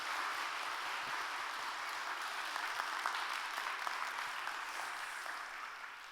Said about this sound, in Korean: 마지막으로 큰 박수 한번 부탁드릴까요?